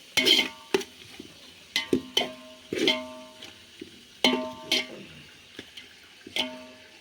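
A spoon scraping and clanking through seeraga samba biryani with coriander and tomato in a metal pot, in repeated sharp stirring strokes with pauses between them, close and fairly quiet, no talking.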